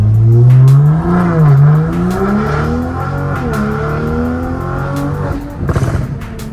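A loud motorbike passes close by, its engine rising and falling in pitch as it revs and goes past, with a roaring exhaust.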